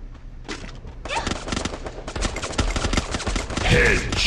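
Rapid bursts of gunfire from the video game Free Fire crackle in dense volleys throughout, loud and close, with voices calling out faintly between the shots.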